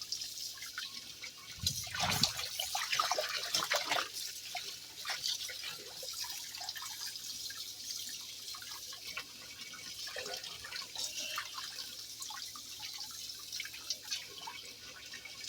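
Water drips and trickles while beets are washed by hand, a soft continuous splashing with scattered droplets, close and fairly quiet, no talk.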